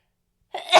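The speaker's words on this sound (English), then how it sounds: "As I sneeze that through." A single sudden sneeze-like burst after a moment of silence, close and fairly loud, lasting under half a second.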